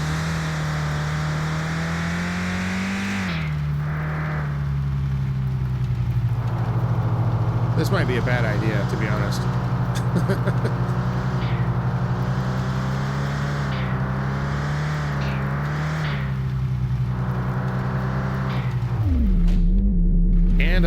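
Car engine in the driving game Mon Bazou, a loud, steady droning rumble that revs up and settles as the car accelerates, with someone talking over it throughout.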